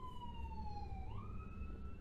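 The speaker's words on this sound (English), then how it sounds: "We are right off a main thoroughfare, so you might occasionally hear a fire truck or an ambulance" An emergency vehicle siren on a nearby main road wails in long, steady tones that dip and then rise again, faint and distant over a low traffic rumble.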